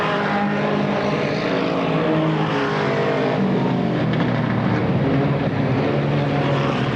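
Four-cylinder class race cars roar around a track together, a loud continuous multi-engine drone that swells and fades as cars pass, with no speech over it.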